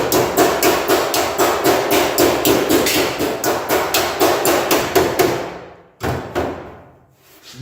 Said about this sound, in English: we're going to have to get, you know, a hammer and get that straightened back out